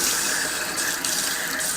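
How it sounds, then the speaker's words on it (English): Water runs steadily from a faucet in an RV after a new water pump is fitted, a continuous close hiss and splash with no voices. "now try running a faucet."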